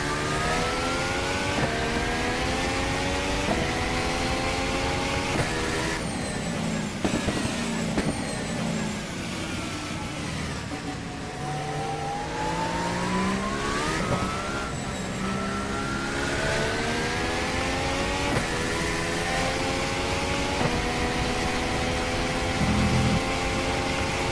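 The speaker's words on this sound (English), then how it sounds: "You'll notice different engine sounds for each car, even though this Williams has the same engine that was just in the McLaren" A Williams Formula 1 car in the rFactor racing sim screams through its gears. High engine whine climbs and drops repeatedly through upshifts and downshifts, with a slower dip and rise midway through, continuous and close.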